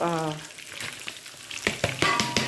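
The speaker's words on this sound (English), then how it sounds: "we add our garlics. And let it fry a little bit until probably golden brown" Garlic frying in heated oil, a soft sizzle beneath a brief tonal hum at the start, then a few sharp clattering utensil knocks close by toward the end.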